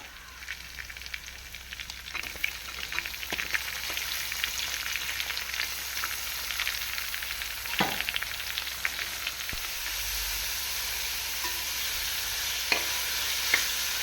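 Onion sautéing with ginger and garlic in a pan for a Kerala-style egg curry, a steady close sizzle with occasional scrapes and stirring knocks throughout, no voices.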